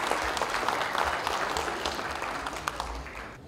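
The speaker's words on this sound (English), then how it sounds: "Let's give a very big round of applause and welcome one representative" An audience at a sponsor certificate ceremony gives sustained, close applause, dense steady clapping that slowly tapers off toward the end.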